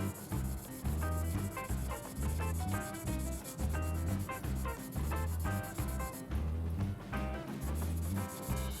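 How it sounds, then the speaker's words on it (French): Gentle wet sanding of varnish on a scale model, steady rhythmic rubbing strokes heard close up, repeated back and forth at an even pace without any voice. "donc on ponce très doucement"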